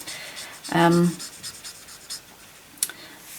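A dark pink marker colours over a stamped image on card, soft scratchy strokes repeating close by, with a brief voice partway through.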